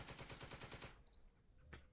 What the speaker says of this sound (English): A little machine gun malfunction there.